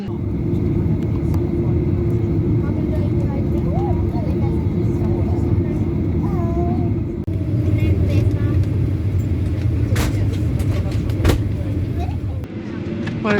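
Ryanair airliner on a flight to Trieste, a steady loud rumble of engines filling the cabin throughout, with occasional faint sounds and voices beneath.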